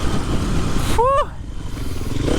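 A TM 300 four-stroke motorcycle rides around a wet track, its engine droning steadily at close range, with a brief rising and falling whine in the middle of the ride.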